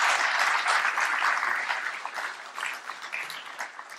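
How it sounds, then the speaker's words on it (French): An audience at an epilepsy awareness event bursts into loud applause for about a hundred volunteers, a dense clapping roar that gradually thins and softens into scattered claps by the end. "près de 100 bénévoles qu'on peut saluer en les applaudissant très fort"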